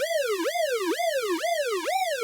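A synthesizer tone swoops up and down in a fast, repeating siren-like wail, about four cycles, steady and loud with no other sounds.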